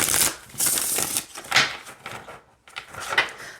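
A tarot card deck being shuffled by hand, close riffling and sliding bursts with brief pauses between passes, no talk.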